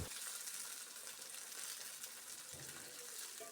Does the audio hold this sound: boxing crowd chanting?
no